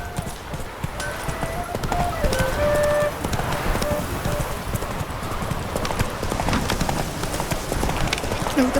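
Roach, a horse in The Witcher 3, gallops with a steady rapid clip-clop of hooves throughout, layered over game music and ambience, with a brief whinny-like tone and some voice.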